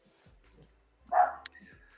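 A dog gives a single short bark close by, a brief sharp burst after a few faint clicks and soft rustles, in an otherwise quiet room.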